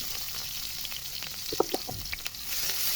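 Chopped onions frying in oil in a wok for noodles, a steady close sizzle with small crackles and pops throughout, no talk.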